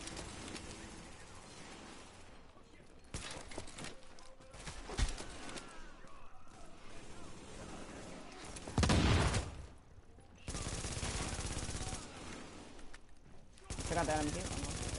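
Rapid automatic fire from a machine gun in Tom Clancy's The Division, a video game: repeated loud bursts spread across the whole stretch, with a few sharper peaks, while a voice talks over the shooting.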